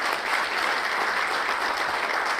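An audience at a military logistics heritage symposium gives dense, continuous applause that fills the short stretch at steady loudness.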